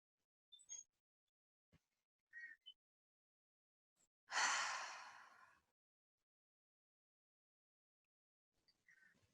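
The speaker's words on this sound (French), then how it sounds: "Oui, alors vous pouvez prendre 3 respirations profondes." A single slow, deep breath out, close and soft, lasts about a second during a guided relaxation, with faint small clicks and rustles before and after it.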